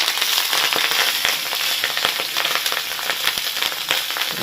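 Jeera rice crackles and sizzles loudly in a hot pan as cooked rice is mixed in, a dense continuous fizz peppered with sharp popping bursts like small firecrackers, close and steady throughout.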